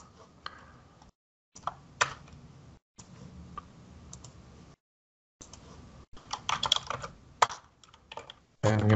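Typing commands on a computer keyboard at a PowerShell prompt: bursts of close, crisp key clicks separated by short silent pauses, with a few louder keystrokes near the end.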